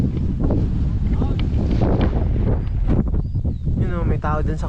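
Strong wind buffets the microphone on a mountain summit during a night hike, a loud, continuous roaring rush with gusts, while people talk over it.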